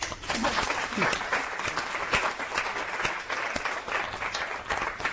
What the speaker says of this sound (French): je vous propose d'applaudir